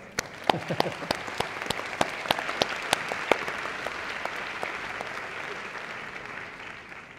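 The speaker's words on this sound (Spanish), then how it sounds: "Un aplauso." Applause from the audience at a panel of a national congress of state lawyers: steady, fairly distant clapping with several sharper individual claps early on, gradually thinning and fading.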